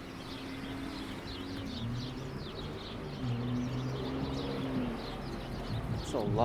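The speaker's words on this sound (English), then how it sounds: "There's a lot of sparrows inside that tree." Sparrows flocked in a street tree in Jamaica Hills, Queens, chirp in a steady chatter under constant city traffic rumble, with a few louder calls near the end.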